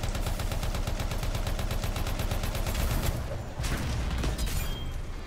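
Rapid, sustained automatic gunfire rattles continuously as covering fire in the Anthem video game, loud and close, with a brief burst of heavier impacts near the end.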